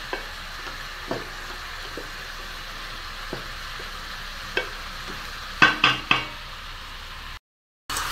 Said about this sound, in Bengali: আঁচটাকে বাড়িয়ে দিয়ে সমানে কষাতে থাকবো